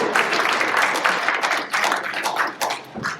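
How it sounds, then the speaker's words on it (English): An audience at a live book talk and conversation breaks into dense, sustained clapping at moderate loudness, tapering slightly toward the end. "everyone can clap for that one"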